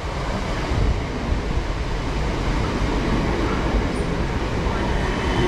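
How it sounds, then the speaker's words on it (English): A South Western Railway train arriving at a station, heard as a loud, steady rumble and roar with wind buffeting across the whole stretch, close by, no talk. "coming in now is going to be the delayed 1110 South Western Railway service to Chessington South"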